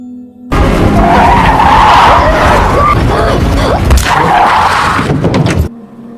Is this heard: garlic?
no